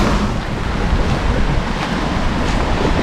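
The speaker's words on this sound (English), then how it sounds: "It's really challenging to film when it's windy and raining." Heavy, roaring wind buffets the microphone with a continuous low rumble, mixed with a steady wash of rain, in Gmunden, Austria, by the Traunsee lake, with no voices.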